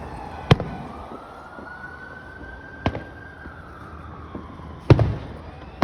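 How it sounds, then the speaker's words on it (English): Fourth of July fireworks go off outdoors at a backyard show, a few sharp booms and cracks spaced seconds apart, with a faint siren wailing underneath in the distance. "Baby's watching the firework."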